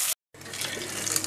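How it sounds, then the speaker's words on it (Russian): Water from a tap pouring into a cooking pot of sautéed vegetables and mung beans, a steady splashing rush that follows a brief gap and keeps going to the end, fairly close. "И добавлю воды."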